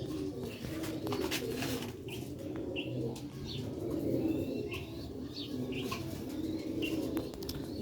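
Master Abdullah breed pigeons coo in low, rolling murmurs that continue throughout, with occasional faint chirps and light flutters over them.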